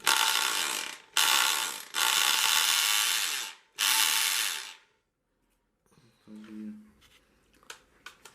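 A Makita HP1640 hammer drill hammers in several long, harsh bursts with short gaps, then stops, followed by quieter handling clatter.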